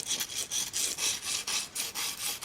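Magnus 150 single-bevel blade stroked back and forth across an abrasive sharpener on a roller, a close rhythmic rasping scrape repeating about ten times in quick, even strokes, with no talking.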